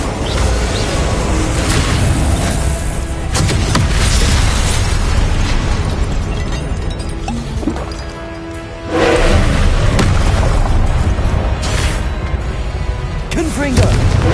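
Confringo blasting-spell explosions from a video game roar loud and near, one booming blast rolling into the next with a brief dip before another eruption hits.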